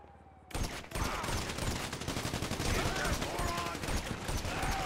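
Gunfire in the video game GTA V, a sustained rapid burst of automatic shots rattling continuously for several seconds, loud and dense after a brief quiet start.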